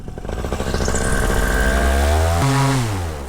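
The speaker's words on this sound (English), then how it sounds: "I'm gonna make sure I have full power here" A paramotor engine throttled up to full power, a loud, close two-stroke roar that climbs steadily in pitch and then holds a high, buzzing drone.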